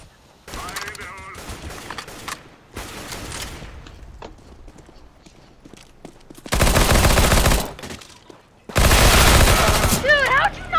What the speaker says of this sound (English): I shot him 3 times with my P90